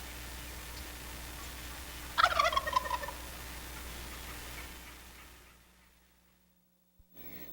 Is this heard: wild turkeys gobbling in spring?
yes